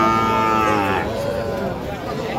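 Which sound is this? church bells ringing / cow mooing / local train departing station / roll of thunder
cow mooing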